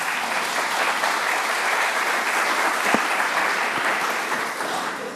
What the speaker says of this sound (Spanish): Denle un aplauso anticipado.